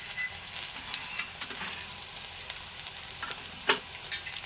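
Urad dal crackles and sizzles in hot tempering oil, a steady frying hiss with small pops and a couple of sharper ticks, no voices.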